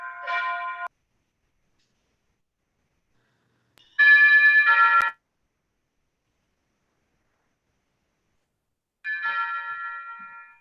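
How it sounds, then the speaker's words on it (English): A broken doorbell rings out three times in separate bright, tinny bursts, each under a second or so long, spaced several seconds apart against otherwise total silence. "The joys of working from home with a broken doorbell."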